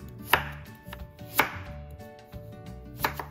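Carrot being julienned with a knife for kimchi: three sharp, widely spaced knife chops on a board, close up and unaccompanied by speech.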